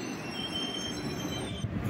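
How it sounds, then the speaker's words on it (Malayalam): The Kottayam Express, train 16366, rolls slowly into Paravur railway station in Kollam district. Its wheels squeal loudly on the rails in a long, high screech over a steady rumble. "വരുന്ന ഈ ട്രെയിനാണ് നമ്മുടെ ട്രെയിൻ നമ്പർ 16366 കോട്ടയം എക്സ്പ്രസ്"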